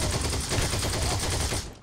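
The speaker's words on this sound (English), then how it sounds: "I got a kill with the sidecar gun." Sidecar-mounted machine gun firing a sustained, loud burst in Heroes & Generals, rapid steady rounds against a dense wash of battle noise that cuts off near the end.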